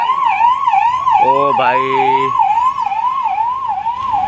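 Ambulance sirens wail loud and close, their tone rising and falling steadily through the whole stretch, on a road after many accidents near an Assam Sadiya celebration; a short shout and a brief horn-like blare cut in midway.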